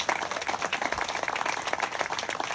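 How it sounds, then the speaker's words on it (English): Audience at the 2023 Maryland Preservation Awards ceremony breaks into dense, steady applause, a loud continuous wash of many hands clapping with no talk over it. "Let's give that a round of applause"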